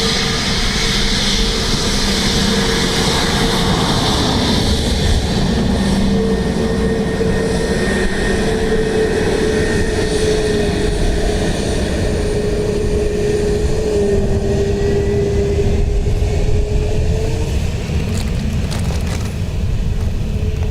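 At Dublin Airport, an airplane lands on runway 28 left with a long, steady engine roar and a droning tone that slowly shifts in pitch, heard from a middle distance without any talking.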